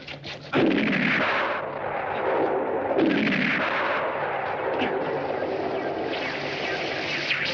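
Gunshots fired at a light in a 1968 film, several loud booming reports that echo and decay with rumble between them.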